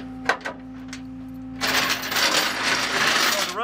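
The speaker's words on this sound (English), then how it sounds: "I'm gonna grab my safety chain and hook it." A metal safety chain rattles and clinks continuously for a couple of seconds as it is hooked onto a flatbed tow truck, following a few short knocks and quiet handling sounds.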